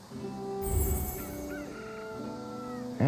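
Chickens and roosters in the video game Fate/Samurai Remnant give short honking clucks and calls at moderate volume over a soft ambient background.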